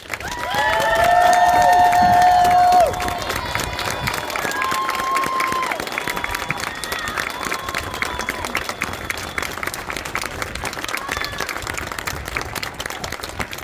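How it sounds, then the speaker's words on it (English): A crowd applauds returning service members with loud clapping and cheering, a shrill whistle or whoop rising early on, then settling into sustained, slightly quieter clapping with scattered shouts. "let us show them our appreciation for their sacrifice for our freedoms with another heartfelt round of applause"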